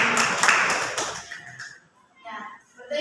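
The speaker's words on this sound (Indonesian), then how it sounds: "Tepuk tangan dulu." Students in a classroom clap together in a short burst lasting about a second, followed by quiet and a few talking voices.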